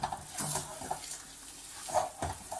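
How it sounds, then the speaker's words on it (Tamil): Rava semiya kichadi being stirred in a pan with ghee and coriander leaves, giving soft scraping strokes and a faint sizzle at close range, with a few sharper utensil scrapes spaced through the moment. "இப்போ கொத்தமல்லி தூவி ஒரு கிளறு கிளறி இறக்கிக்கலாம்"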